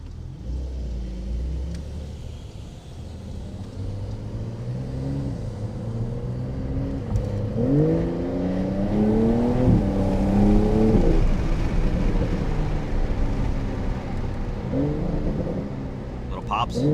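A stock 2023 Porsche 911 GTS engine revs repeatedly, rising and falling in pitch with a deep rumble and little pops, loud and close, with faint talking underneath.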